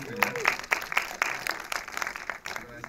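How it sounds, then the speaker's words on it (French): An audience at a developer conference talk claps for a helper, uneven and moderately sparse, with louder individual claps and a few voices mixed in. "vous pouvez l'applaudir"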